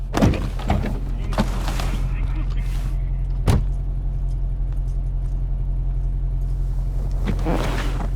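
Steady low engine drone inside a moving car in a video game, with occasional thumps and clicks over the constant hum and voices talking at times.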